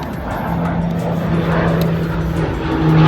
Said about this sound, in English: I'll allow this plane to fly over.